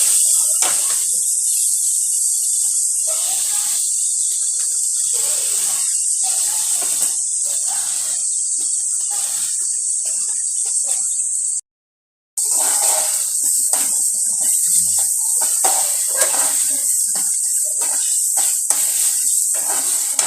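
Pepper chicken gravy being sautéed in a pan gives a loud, continuous hiss of sizzling with faint scraping stirs, broken by a brief silent gap midway.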